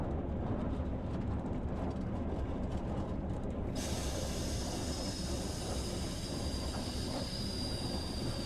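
A train on the Tees Valley Line in Train Sim World 2020 braking to a stop, a continuous loud rumble of rolling wheels and track noise with a brighter hiss of brakes coming in partway through.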